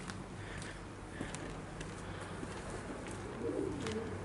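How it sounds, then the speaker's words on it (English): Pigeons coo softly in an outdoor park along a trail, a low murmuring call that rises slightly toward the end against faint background ambience, with no one speaking. "Oh, pigeons."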